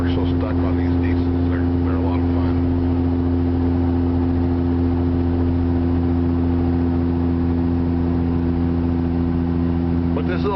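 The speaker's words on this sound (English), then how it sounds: "to be able to run this comfortable up a hill, that's why people are so stuck on these diesels" A Cummins diesel pickup engine drones steadily while climbing a hill, a constant low rumble with a strong hum that continues throughout, faint cabin noises over it.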